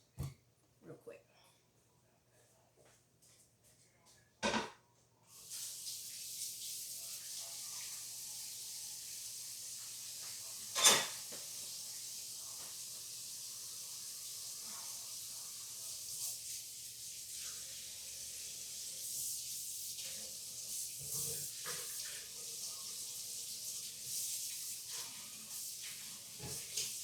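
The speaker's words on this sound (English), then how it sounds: "I can put my potatoes in there and go rinse them real quick" Potatoes rinsed under a running kitchen tap, a steady close hiss of water flowing for over twenty seconds after a few brief handling knocks, with faint occasional clatter underneath.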